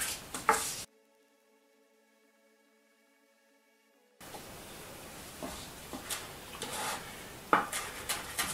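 A knife chops leek on a cutting board while a shrimp and soy filo pastry is being made. It gives short, sharp taps and scrapes at irregular intervals over kitchen clatter, with a quiet gap early on.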